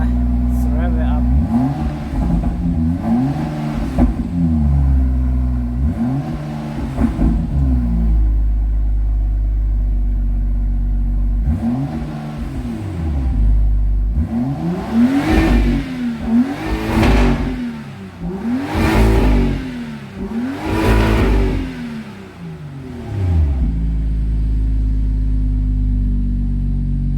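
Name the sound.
BMW M2 F87 engine revving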